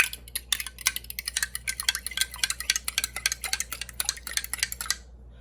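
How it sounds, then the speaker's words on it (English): A whisk beats ingredients for a Chinese chicken slaw in a bowl, producing fast, steady metallic clicks against the sides that carry on for about five seconds before stopping abruptly, close and fairly loud with no talking. "Whisk it together."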